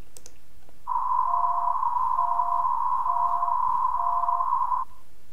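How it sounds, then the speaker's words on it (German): A single steady test-tone beep sounds continuously for about four seconds, clear and loud above a low bed of broadband noise, with faint brief pulses beneath it. "Da ist der Piepton unterhalb des breiten Rauschens."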